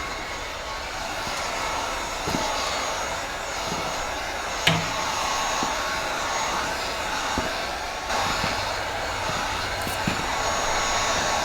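Heat gun blowing hot air onto the adhesive strip of a replacement splinter guard on a Festool track, a steady broadband whoosh throughout with a few faint clicks and handling knocks.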